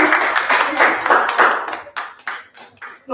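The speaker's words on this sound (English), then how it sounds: "A round of applause for the girls." An audience applauds a group of girls with a burst of clapping, dense at first and thinning into scattered claps within a few seconds, loud and close with a voice mixed in.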